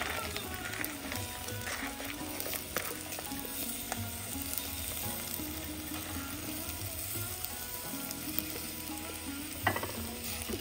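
Potatoes, frozen green peas and green chilli going into onions frying in a pan, a steady close sizzle with faint stirring scrapes throughout, no talk.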